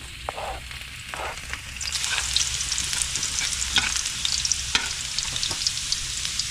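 Garlic frying in a hot pan, a steady bright sizzle with occasional stirring scrapes, growing slightly louder partway through; no talking.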